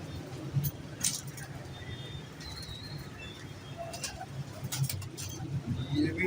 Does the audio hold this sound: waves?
no